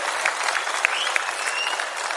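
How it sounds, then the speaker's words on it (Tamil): Steady audience applause at a prize-giving ceremony, a continuous wash of many hands clapping at moderate distance, fairly soft and even throughout, with no speech over it. "அவருக்கு உங்களின் பலத்த கைத்தட்டலை வழங்குமாறு அன்போடு கேட்டுக்கொள்கிறோம்."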